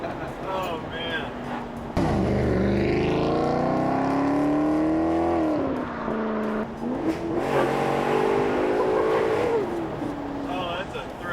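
A Maserati GranTurismo's naturally aspirated engine revs hard and close from inside the car, its pitch climbing and dipping between shifts in a loud, continuous roar.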